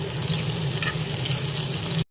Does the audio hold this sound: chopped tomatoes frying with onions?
yes